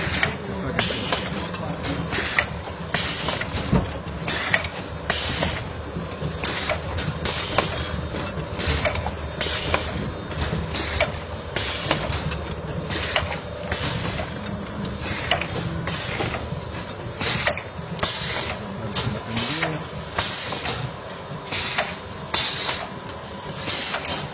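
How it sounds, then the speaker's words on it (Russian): Potting machine setting plants into containers at an ornamental plant nursery, giving a steady mechanical clatter with rhythmic ratcheting clicks and creaks repeating throughout, close and continuous. "как мы сажаем растения в горшки на машине"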